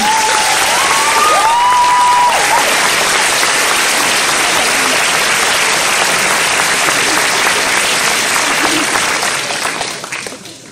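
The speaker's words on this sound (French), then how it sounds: "Je vous demandais de les applaudir encore une fois parce qu'elle le mérite." An audience at a school ceremony claps again for the headmistress, a full, loud round of applause that holds steady before tapering off near the end, with a voice briefly heard over it early on.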